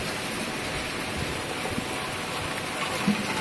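Heavy rain pours down at a dacha in Krasnoyarsk Krai, a steady dense hiss of drops on surfaces with a few louder spatters close by and no talking.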